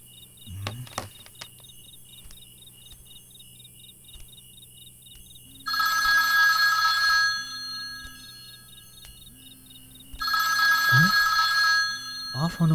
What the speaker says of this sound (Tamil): ஆஃப் ஆன ஃபோன் ரிங் ஆகுது.